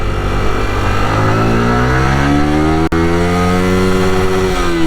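A Yamaha motorcycle with VVA accelerates hard in first gear; its engine note climbs steadily in pitch over a few seconds, loud and close, with one very brief dropout partway through.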